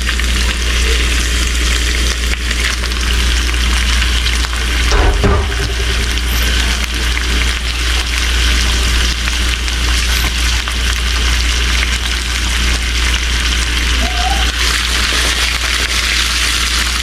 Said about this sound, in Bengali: এখন আমি দিয়ে দিচ্ছি শ্রিম্প।